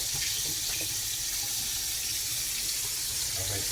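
Tap water runs continuously and loudly over chicken pieces being rinsed in a sink, a steady close splashing rush with faint voices underneath.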